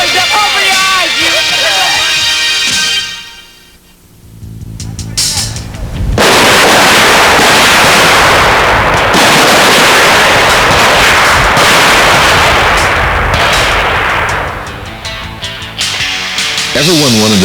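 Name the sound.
M16 rifle gunfire at basic training marksmanship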